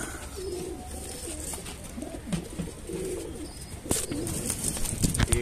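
Highflyer pigeons held for sale coo in low, repeated throaty phrases, fairly close, over a steady background hiss with a few sharp clicks and rustles.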